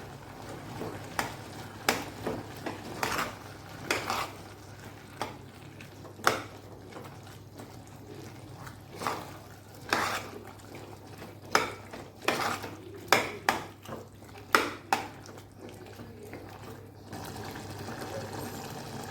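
A spoon clanks and scrapes against a metal cooking pot as spices are mixed into moong dal and bottle gourd, irregular sharp knocks and scrapes repeating close by over a faint background hum.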